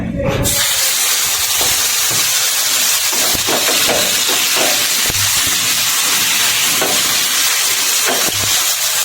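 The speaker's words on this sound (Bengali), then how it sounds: "তারপরে ওটাকে গরম তেলে দিয়ে দিতে পারেন দিয়ে দেবো গরম প্যানে" Loud, continuous hissing sizzle of chicken frying in hot oil in a pan, with occasional soft pops and scrapes, no speech.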